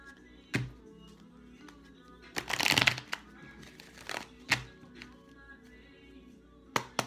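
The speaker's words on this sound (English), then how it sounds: "Let me shuffle these." Tarot cards are shuffled by hand close to the mic, giving a few quiet riffling and tapping bursts, one brief flurry slightly louder than the rest.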